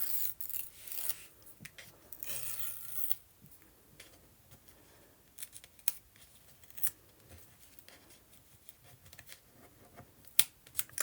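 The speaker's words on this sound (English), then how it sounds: "I'm going to just rip off the edge a little bit uneven" Paper is torn by hand into uneven-edged strips for journal clusters, with close, crisp ripping and rustling in bursts, sharper tears standing out over a quieter papery rubbing.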